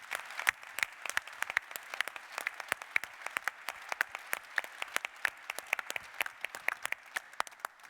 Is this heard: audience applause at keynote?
yes